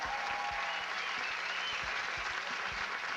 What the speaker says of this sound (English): Give them a big round of applause right there